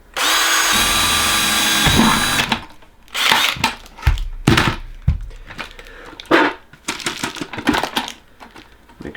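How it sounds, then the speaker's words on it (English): Power drill spinning at high speed as it bores through a plastic bucket for a chicken nipple waterer, a loud steady whine for about two seconds, then scattered knocks and handling noises follow. "let's put our drill on high speed."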